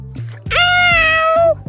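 A child imitates a cat's meow with one drawn-out, wavering mew lasting about a second, loud and close, framed by short breathy vocal sounds before and after.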